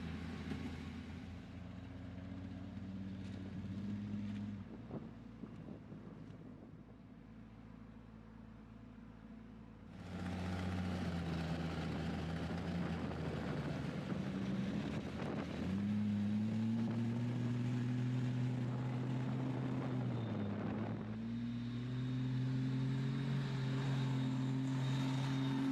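A restored Jeep Cherokee monster truck on a test drive, its engine droning steadily throughout, swelling louder midway and rising in pitch as it accelerates, with no voices.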